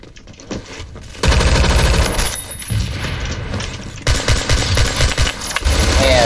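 Loud, sustained bursts of rapid automatic gunfire from a Beowulf ECR rifle in the Roblox shooter Phantom Forces, firing in several long strings with brief pauses between them.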